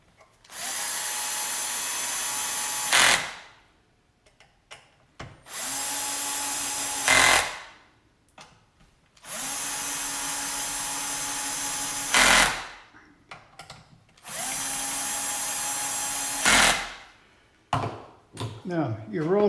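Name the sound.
power driver driving screws into Makita 9401 belt sander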